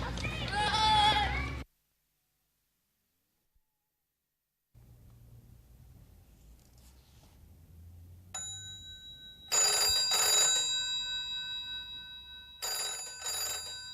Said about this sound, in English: Danny Beech can't hear the phone ring